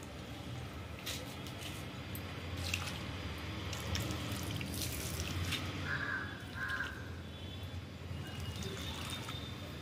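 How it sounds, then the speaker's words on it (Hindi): Water is poured onto potted snake plants, a steady close trickle and splash into the soil, with crows cawing in the background. "मैं पानी डाल दे रही हूँ।"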